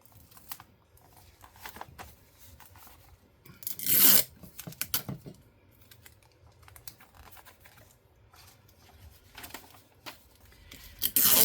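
Clear tape tearing and pressing onto a Little Golden Book being decorated, sharp ripping bursts near the start and end with soft crinkling and tapping between, close and fairly quiet with no talk.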